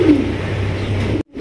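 Pigeons coo at a Bangladeshi pigeon market, a steady low cooing murmur from several birds filling the background before a brief drop to near silence at the end.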